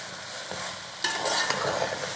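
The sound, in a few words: stirring macaroni in a pan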